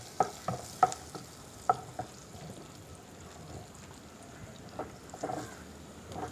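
Chopped pineapple being stirred in a pan for an Onam-style pineapple curry, with a few sharp spoon scrapes early on and then a low, steady frying sizzle.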